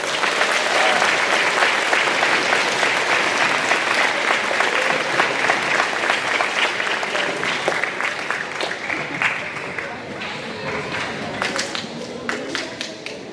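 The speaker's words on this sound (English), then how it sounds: "Let's give them a hand." An audience in a school gym applauds the 5th grade band, a dense roar of clapping that slowly thins into scattered, distinct claps with murmuring voices toward the end.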